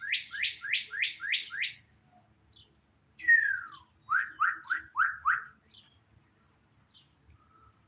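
A bird sings nearby in two bright bursts of quick, downward-sweeping chirps, the first a run of five, then a slurred descending whistle and another run of five, with faint scattered chirps trailing off and no talking.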